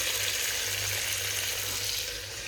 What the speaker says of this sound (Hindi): प्याज, टमाटर, लहसुन, मिर्चा सब डाल देंगे एक साथ। थोड़ा देर इसको भूनेंगे।